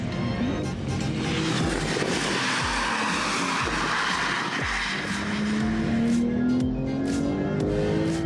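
A twin-turbo V6 car engine climbs steadily toward 7000 rpm, a loud rising drone heard from the cabin with road and wind noise, pulling hard through the revs.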